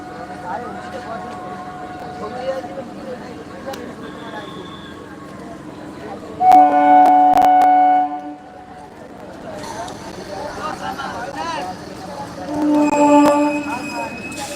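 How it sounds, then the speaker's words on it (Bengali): A train rumbles steadily as it stops at a station bound for Sealdah, sounding two long, loud horn blasts, with murmuring voices and station bustle throughout. "দেখো ট্রেন থামলো স্টেশনে"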